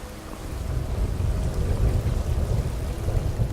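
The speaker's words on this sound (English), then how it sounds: "See, I told you the rain would still be there." Steady rainfall in Skyrim, a dense continuous hiss of drops with a low rumbling undertone, like a storm washing over the open landscape near a tree.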